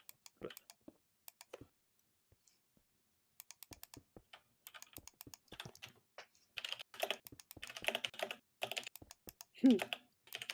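Quick bursts of clicking on a computer keyboard during a livestream, irregular and close, with soft speech mixed in toward the end.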